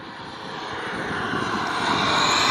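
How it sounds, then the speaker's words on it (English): A Yak 130 model turbine jet flies at an outdoor RC airshow on a wet field, its broadband jet roar rising steadily and growing louder as it approaches, with no voices. "watching these amazing aircraft take to the skies"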